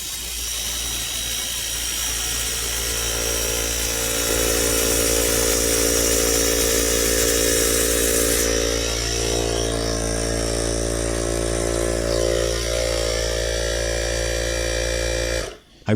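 An IK eFoam Pro 2 pressure foam sprayer pumps up with a loud, steady motorized whine and hum that runs unbroken for about fifteen seconds, then cuts off abruptly at the end.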